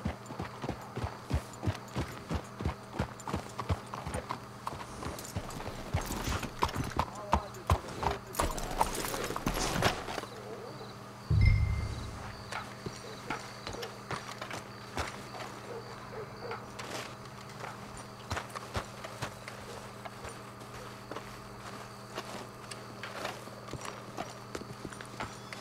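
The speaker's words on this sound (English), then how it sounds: "Let's hitch your horses up ahead." Horses walk in Red Dead Redemption 2 with steady clip-clop hooves over a quiet outdoor ambience, plus a brief burst of louder movement near the middle, after which the hoofbeats stop and a low thump follows.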